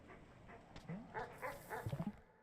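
Dogs in the game Animal Well give faint yips and short barks. The cluster of quick, soft woofs and whimpers ends in a rapid little run of barks.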